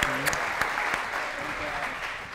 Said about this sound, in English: if y'all could give a round of applause